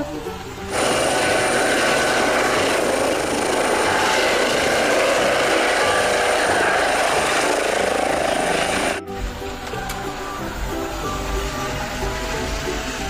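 A helicopter's steady, loud rotor and engine roar holds for about eight seconds, then cuts to a quieter rumbling background.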